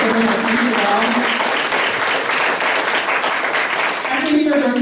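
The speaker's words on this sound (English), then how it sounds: "So can we give him a round of applause for serving our country well?" An audience at a Republican women's meeting applauds steadily and loudly for about five seconds, a dense wash of clapping with a few voices mixed in.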